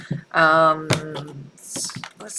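A deck of tarot cards is shuffled by hand with soft riffling and patting, mostly under a voice talking close by.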